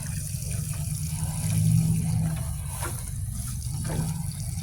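Water is poured onto a grapevine in a garden, a steady low gushing and splashing that swells in the middle and runs on continuously with no voices.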